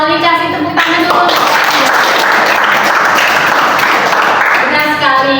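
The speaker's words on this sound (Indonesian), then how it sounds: "Kasih tepuk tangan dulu." A micro-teaching classroom of students clapping together, a loud, sustained burst of applause in the middle, with a teacher's voice heard before and after.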